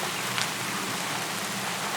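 Rain patters steadily, a dense, even hiss of falling drops that continues unbroken with no voices.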